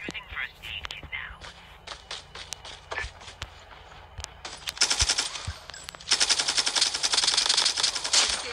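In a battle royale video game on an Alcatraz map, sharp single gunshots and footsteps give way to sustained rapid automatic fire in long bursts. Quiet speech is heard underneath.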